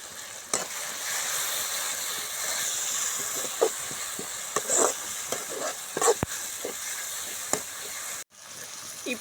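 Onions sizzling steadily in a pan with turmeric, a constant close frying hiss broken by a few soft stirring scrapes and clicks, with no talking.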